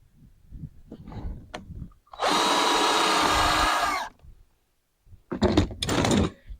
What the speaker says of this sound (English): I'm going to put me one screw right in the top.